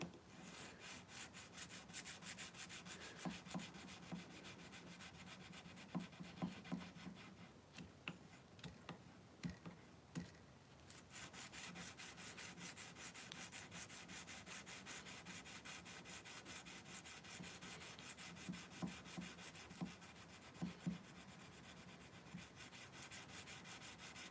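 Hand smoothing of an object in a workshop, a steady rubbing and filing scrape that runs almost continuously with short pauses and faint ticks, close and fairly quiet with no talk.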